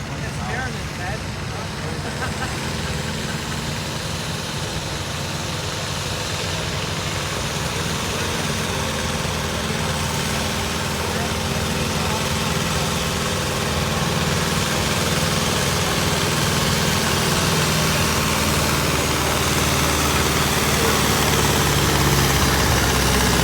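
Minneapolis-Moline tractor engine revving hard at a night tractor pull, a loud steady heavy roar that builds slightly over time, with crowd noise and an announcer talking over it.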